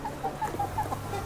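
Free-range hill chickens from Thái Thủy commune, Lệ Thủy district, Vietnam, clucking in short, evenly spaced calls, about six in quick succession, moderately near over a soft background hum.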